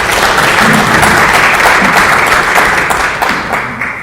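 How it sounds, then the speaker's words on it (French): An audience at a public talk on the Bible and the Quran claps steadily for about four seconds, a dense, full wash of hands that tapers slightly toward the end. "Je vous prie d'applaudir pour commencer."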